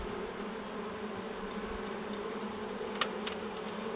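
Bees hum in a steady, low drone from inside an old beehive left unopened for over thirty years, with a faint dense buzz filling the background and a brief slightly louder buzz passing near the end.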